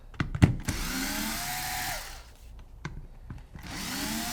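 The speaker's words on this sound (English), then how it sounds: "it might be handy to have an electric screwdriver" Electric screwdriver backing screws out of a Tippmann Gryphon paintball gun, a steady motor whir running for a couple of seconds, pausing, then starting again, with a few sharp clicks and knocks in between.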